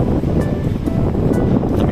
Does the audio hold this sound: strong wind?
yes